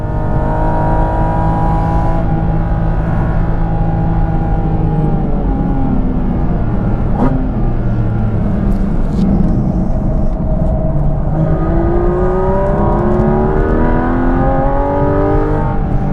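A car engine howls close up on a race track, its pitch climbing and dropping through gear changes as it revs hard and accelerates, steady and loud throughout.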